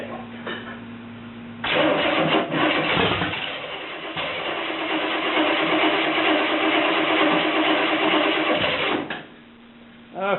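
A car fitted with homemade headers cranks and catches, its engine roaring loud and rough for several seconds before dropping back, with quiet voices around it.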